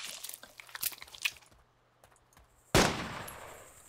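A gunshot in the video game DayZ: one sudden loud blast near the end with a decaying tail, preceded by softer clicks and rustles.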